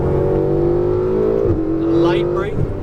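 Ferrari 488 GTB engine on a race track, a loud sustained drone that rises steadily in pitch under acceleration, drops briefly as it shifts, then climbs again, with a voice talking over it.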